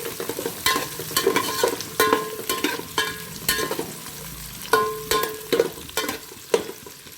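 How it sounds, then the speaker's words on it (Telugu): Curry leaves and chopped onions frying in hot oil for a thotakura biryani, a steady sizzle broken by regular scraping stirs of a spoon against the pan, close and clear with no talk. "కరివేపాకు, ఉల్లిగడ్డలు అవి కొద్దిగా వేగాక"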